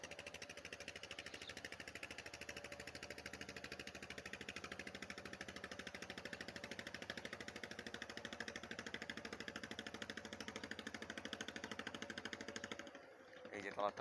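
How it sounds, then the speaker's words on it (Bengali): A motor trawler carrying watermelons approaches fast on a river, its engine pounding in a steady, rapid knocking rhythm that stays even and fairly faint before cutting out at the end. "এই ট্রলারটা কিন্তু অনেক স্পিডে আসতেছে, আপনারা শব্দই পাচ্ছেন"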